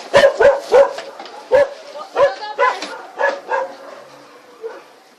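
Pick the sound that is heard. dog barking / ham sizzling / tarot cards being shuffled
dog barking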